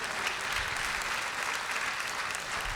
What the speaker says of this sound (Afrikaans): kan ons hom nog 'n lekker hande klap gee?